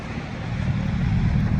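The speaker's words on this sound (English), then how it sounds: "Stock exhaust, but it sounds so great." A stock BMW M3's exhaust gives a steady, deep rumble that swells slightly over a few seconds, heard from nearby without any talking.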